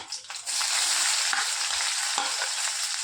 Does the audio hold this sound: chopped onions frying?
yes